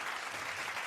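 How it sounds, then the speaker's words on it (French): Dense, steady applause from an audience fills a short burst during a live-streamed youth information show, close and even throughout with no voices over it. "J'applaudis parce que tu as remercié beaucoup de gens."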